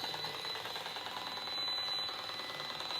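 A frequency meter beeps continuously at a steady, shrill pitch, loud and close, with a brief dip partway through and no talking.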